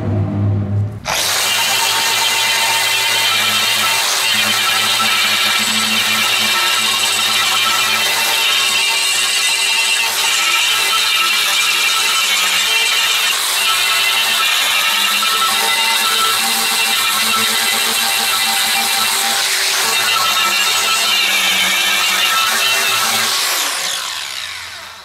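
Angle grinder fitted with a finer sanding disc working over a steel grill fire plate, a loud steady high-pitched whine that starts abruptly, holds for about twenty-three seconds, then spins down.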